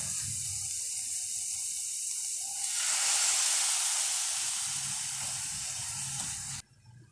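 Soy sauce poured into a hot pan of spicy chicken kachori filling bursts into a loud, broad hissing sizzle that holds steady for several seconds, then cuts off abruptly.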